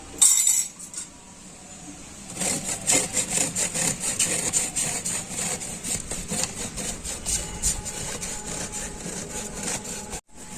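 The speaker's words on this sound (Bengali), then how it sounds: "তো এই খোয়া ক্ষীরটা আমি গ্রেট করে নেবো" A block of khoya kheer is rubbed back and forth across a metal grater, giving a steady run of rhythmic scraping strokes, close and fairly loud, with occasional light clinks and no talking.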